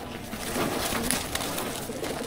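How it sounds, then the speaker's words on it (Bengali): A restless pigeon in a loft, with soft coos and rustling wing and body movements heard close up over a continuous background. "দেখেন কি ছটফট ছটফট করে কবুতর"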